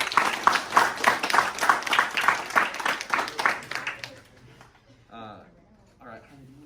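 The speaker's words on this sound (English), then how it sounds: "Let's give them a round of applause." An audience gives a round of applause for students' posters, dense rapid clapping that fills the first four seconds and then fades into quiet room sound with a few faint voices.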